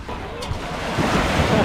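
Waves wash onto a Lake Michigan beach on a chilly day, a continuous close roar of surf mixed with heavy wind buffeting the microphone.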